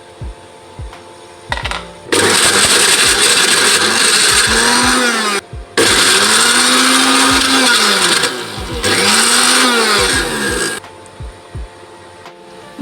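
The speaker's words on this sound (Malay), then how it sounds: "So kita akan masukkan daging untuk blender." A kitchen blender minces meat filling for mini roti john in three long, loud motor bursts with pitch sweeps as the blades bite and spin up. Short pauses separate the runs, and there is no talking.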